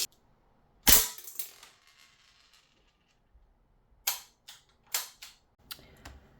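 Umarex AR-15 Strike Force CO2-powered automatic airgun firing sharp, close pops: one loud shot, then a quiet pause, then four spaced shots in quick succession, with faint handling noise between.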